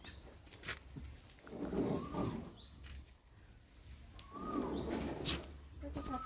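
A bird outdoors gives a harsh, eerie call in short repeated bursts with sharp chirps between them. It sounds fairly close over a quiet background, and faint voices can be heard at times.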